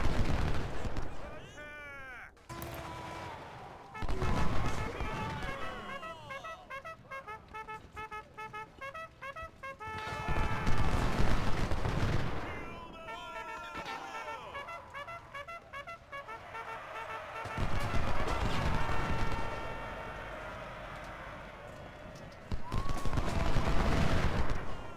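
Rapid gunfire and volleys in a Civil War strategy game battle at Stones River, bursts of crackling shots repeating through the scene with someone talking over them at times.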